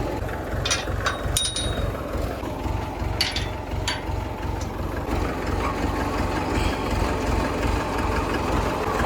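Tractor engine idling nearby, a steady low rhythmic chugging that runs evenly throughout with a few faint clanks on top.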